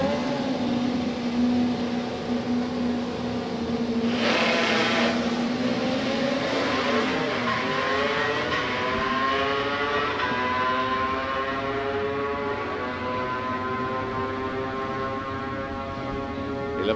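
Kawasaki drag racing motorcycle on a qualifying run at a drag strip, a long engine wail climbing in pitch through the gears, steady and fairly distant, with no talk.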